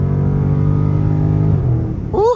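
Widebody Dodge Charger Scat Pack with a deep engine roar accelerating hard up close, steady and loud, the note dropping near the end before a voice shouts.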